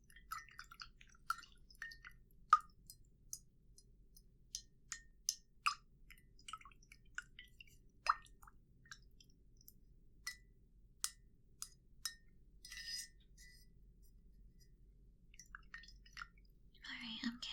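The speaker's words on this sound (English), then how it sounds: "I like the sound of water, don't you?" Brush swished and tapped in a cup of water while painting with watercolors, quiet close drips, clinks and wet squishes in an irregular rhythm, with faint whispering in between.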